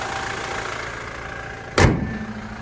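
A Toyota Fortuner GXL 2.8L turbo-diesel wagon idles steadily close by, a low even hum, broken near the end by a brief loud thump like a door or hood closing.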